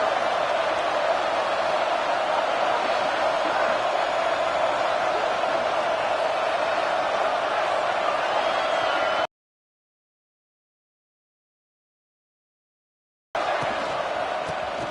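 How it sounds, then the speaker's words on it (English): Loud, steady roar of a fired-up crowd filling a football stadium early in the game, a dense sustained wash of cheering voices that cuts out abruptly partway through and then resumes. "It's early, but this crowd is fired up. Listen to this noise here."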